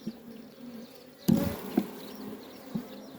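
Honeybees humming around an opened hive during a queen change, a low steady buzz with a few dull knocks and bumps of handling the hive.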